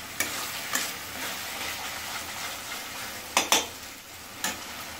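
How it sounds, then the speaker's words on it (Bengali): Spice paste for a chicken dish frying in oil with a soft, steady sizzle, broken by a few sharp scrapes and clinks of a spoon stirring against the pan, fairly quiet and close. "দেখো এখন মশলাটা কষানো হচ্ছে, কি সুন্দর দেখো তেল ছেড়েছে।"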